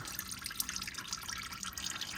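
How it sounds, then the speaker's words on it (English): Used engine oil dripping and trickling from the drain of a 2016 Lexus RX350 with a 2GR-FKS engine, a soft continuous liquid patter with small irregular drips, faint and without talking. "So you can see it's still dripping."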